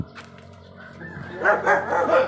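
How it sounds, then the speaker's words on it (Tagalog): A few sharp dog barks arrive in quick succession near the end, moderately close, after a quiet stretch with faint background noise. "May aso."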